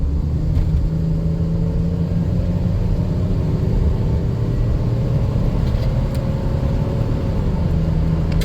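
A 1994 Chrysler Town & Country AWD minivan with a 3.8 engine accelerates on a highway, a steady loud rumble of engine and road noise with rising engine tones, heard from inside the cabin.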